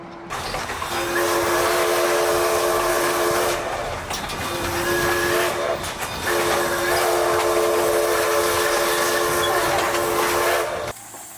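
The railroad's number 25 steam engine passes with its train, sounding a loud whistle in three long blasts over rumbling wheels and hissing steam.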